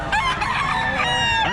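Gamefowl roosters of lifeline and lemon sweater breeds crowing close by, a loud continuous cock-a-doodle-doo with overlapping calls filling the whole moment.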